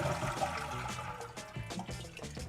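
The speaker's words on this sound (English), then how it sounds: "And it starts with getting the water out of the tank." A toilet tank is flushed to drain it before its fill valve is replaced, giving a close, steady rushing swirl of draining water with gurgles and trickles, no voices.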